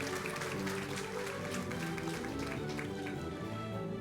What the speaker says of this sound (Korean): 박수로 맞이해 주시죠